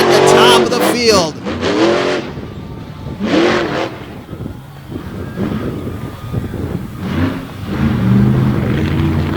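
Engine of a truck running on a race track, a loud, continuous roar that swells and revs up and down throughout, mixed with an announcer talking over it.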